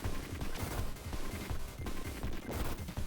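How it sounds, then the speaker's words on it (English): Dense, rapid bursts of crunchy shots and explosions from a Sega Genesis game, fairly quiet, repeating in a steady, busy rhythm with no pauses. "it's got that typical Sega explosions and sound"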